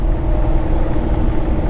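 A truck with an X15 engine uses its engine brake to slow down, a loud, steady, close low rumble that holds without a break.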